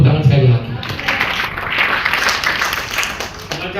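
A church congregation at a GTI Medan worship service claps and applauds, a bright wash of many hands that starts close and loud and then settles under lingering voices.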